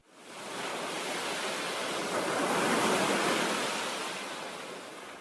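Surf breaking along the Gulf shore at Fort De Soto Park, a single swelling rush of wave noise that builds over a few seconds and slowly fades, broad and close, with no voices.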